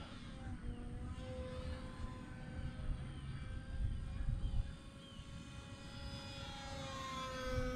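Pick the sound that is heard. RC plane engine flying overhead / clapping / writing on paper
RC plane engine flying overhead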